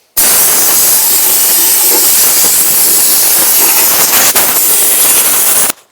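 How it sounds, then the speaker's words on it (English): Compressed air blasting metal filings out of a snowmobile intake air box, a loud, steady hiss that runs unbroken for about six seconds, close and alone with no voices. "I'm just going to blow this out, get all these filings out."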